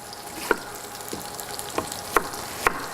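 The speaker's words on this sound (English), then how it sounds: "Let's get all of the zucchini in." Zucchini frying in a pan during a home cooking show, with a steady low sizzle and a few sharper stirring clatters spaced through the short stretch, no talking over it.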